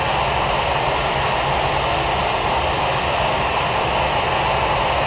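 Loud, constant roar of jet airliner engines in Flight Simulator X, a steady broadband rumble and hiss that holds unchanged throughout.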